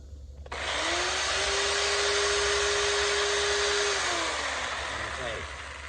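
An electric chainsaw cuts evenly across a wood block while carving an eagle, whining up after a short quiet start, holding a loud, steady buzz through the cut, then winding down near the end.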